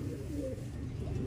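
Pet pigeons coo softly in a low, brief call, close by against a steady background hum.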